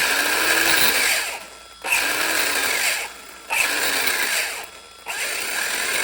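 Sensored brushless motor of an RC car whining in reverse, surging in jumpy bursts with short drops roughly every one and a half seconds, loud and close with no talk.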